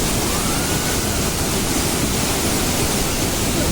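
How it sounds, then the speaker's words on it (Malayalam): Siri Mane Falls near Kigga in Shimoga district, Karnataka, pours muddy water in a loud, constant, close roar of rushing water with no break. "ഇതാണ് വാട്ടർഫോൾ."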